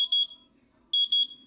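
Xrexs 4-channel timer display beeping: a fast triple-pulsed high electronic beep, a pause of about half a second, then the same clear beep pattern again, loud and alone over a faint low hum.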